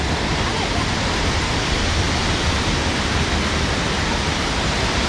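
The flooded Jatmai waterfall sends rushing water down in a loud, dense, unbroken roar that fills the whole span close by.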